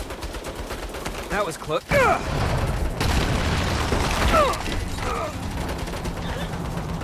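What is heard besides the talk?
turret gunfire in the video game Saints Row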